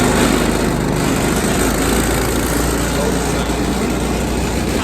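A small go-kart engine buzzes loudly and steadily while the kart is driven outdoors, close by and filling the whole stretch with a constant raspy rumble.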